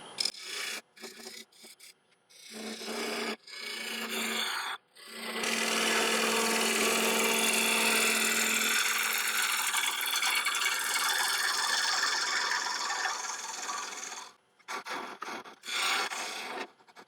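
Wood lathe turning a bowl at 1200 RPM, with a sustained raspy cutting and rubbing of tool on wood lasting several seconds, bracketed by short bursts and pauses.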